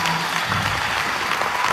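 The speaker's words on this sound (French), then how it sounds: "Applaudissez vos parents." A live theatre crowd at a one-woman comedy show applauds loudly and continuously, a steady wash of clapping with no speech over it.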